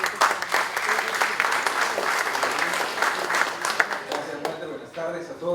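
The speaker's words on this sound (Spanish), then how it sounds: "le vamos a recibir pues con un fuerte voto de aplauso" An audience at an education forum gives loud, sustained applause to welcome a speaker, with dense clapping that thins out toward the end as voices begin.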